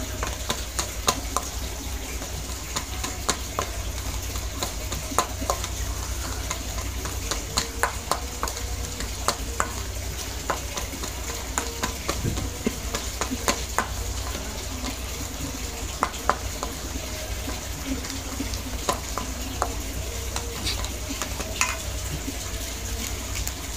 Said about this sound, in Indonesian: Terus aduk sampai kalis teman-teman.